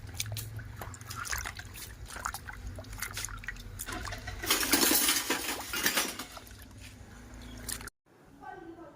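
Sliced potato chips are washed by hand in water, with trickling, sloshing and light clinks, swelling into a louder splashing burst midway before cutting off; a voice talks throughout.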